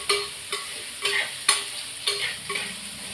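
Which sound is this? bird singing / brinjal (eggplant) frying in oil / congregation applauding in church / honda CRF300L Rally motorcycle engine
brinjal (eggplant) frying in oil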